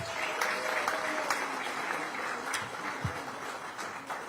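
Applause from an audience at a Democratic Party field meeting in Yeonggwang County, South Jeonnam, a broad, steady wash of many hands clapping that continues evenly, with no talk over it.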